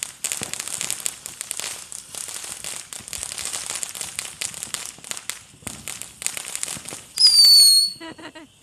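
A Showtime Havana Heat fountain firework burns with a steady, dense crackle and fizz that holds for several seconds, ending in a loud rising whistle and a final burst of crackling.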